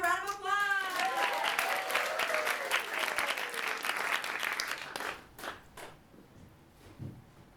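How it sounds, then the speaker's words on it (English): Audience at a live improv comedy show breaks into a round of applause, dense clapping and cheering filling the room before tapering off into scattered claps. "Can we get started with a round of applause?"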